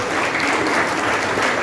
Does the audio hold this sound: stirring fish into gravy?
no